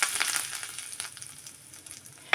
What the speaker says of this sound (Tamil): கடைசியாக நம்ம தாளிப்பு போட்டிருக்கோம் இல்லையா, கடுகு,